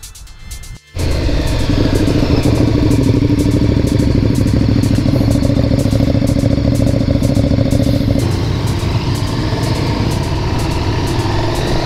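A KTM Super Duke R motorcycle engine idles loud and close at a KTM Super Duke rally in France, a steady rumbling clatter that starts abruptly and runs unbroken, with a slight shift in tone partway through.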